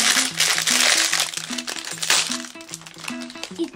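Plastic packet crinkling up close in steady, crackly bursts, with a simple melody playing underneath.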